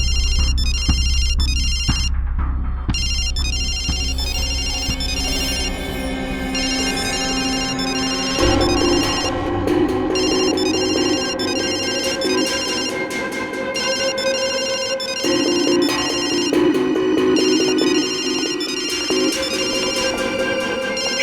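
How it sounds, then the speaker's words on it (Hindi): A mobile phone ringer plays a looping electronic melody with bright repeating tones, steady and fairly loud throughout with brief shifts in the pattern and no voices over it. "इसका मतलब है पायल का ये फोन, इसका रिंगर, ये ट्रिगर है।"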